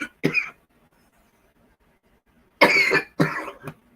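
A person coughs in sharp separate fits: one short bout, then a long silence, then two harder coughs close together, near and loud against a quiet room.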